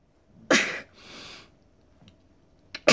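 One loud close sneeze bursts out, followed by a breathy exhale and then a second sharp sneeze at the end, in an otherwise quiet room.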